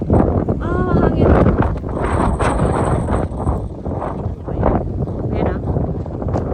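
Strong wind gusts during a hailstorm and buffets the microphone in loud roaring surges, while a person talks excitedly over it.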